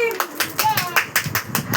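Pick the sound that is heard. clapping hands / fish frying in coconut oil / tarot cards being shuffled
clapping hands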